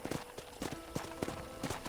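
Horse hooves clip-clop in a quick, even trot in Red Dead Redemption, close and clear, with a faint voice barely present in the background.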